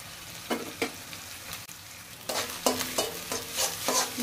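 Vegetables for chicken-vegetable noodles stir-fry over high heat, an intense close sizzle punctuated by rhythmic spatula scrapes and tosses that grow busier and louder in the second half, with no talking.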